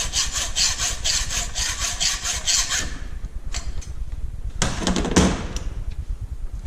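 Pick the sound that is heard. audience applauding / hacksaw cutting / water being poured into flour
hacksaw cutting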